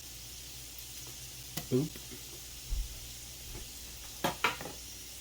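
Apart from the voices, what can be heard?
unsalted butter and garlic sizzling in a pan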